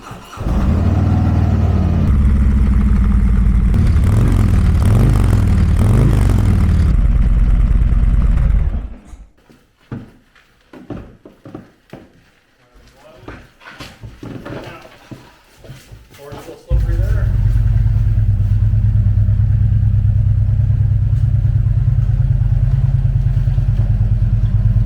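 Harley-Davidson Street Glide motorcycle engine idling loud and close, a deep steady rumble that drops away for several seconds into quieter clatter and then returns at full strength.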